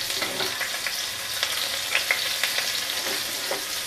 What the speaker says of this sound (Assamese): পিঁয়াজখিনিও ৰংচোৱা হোৱালৈকে এনেকৈ ভাজি ল'ম